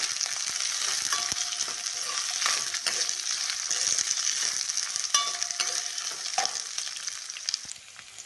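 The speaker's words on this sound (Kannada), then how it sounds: "ಈರುಳ್ಳಿ ಹಾಕಿದ್ದೀನಿ ಅದೊಂದು ಸ್ವಲ್ಪ ಫ್ರೈ ಆದಮೇಲೆ ಒಂದು ಬೆಳ್ಳುಳ್ಳಿ ಹಾಕ್ತಾ ಇದ್ದೀನಿ ಇದನ್ನು ಚೆನ್ನಾಗಿ ಫ್ರೈ ಇದ್ದೀನಿ" Onion and garlic frying in a pan give a steady, close sizzle with scattered crackles and soft stirring scrapes. It runs for the whole stretch with no voices and eases off slightly at the end.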